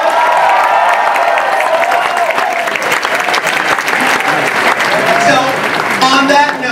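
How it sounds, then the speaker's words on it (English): Loud, dense applause and cheering from a large crowd at a RuPaul's DragCon keynote, sustained throughout with excited voices mixed into the clapping. "Give her a big round of applause."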